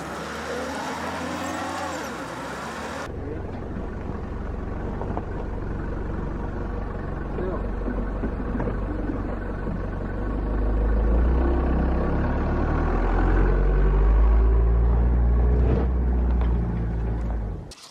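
Ssangyong New Korando 4WD climbing an off-road slope in Gangwon-do, a steady low engine drone close by, building into a heavier, louder rumble toward the end as it strains uphill.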